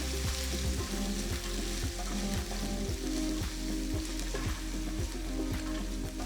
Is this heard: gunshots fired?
no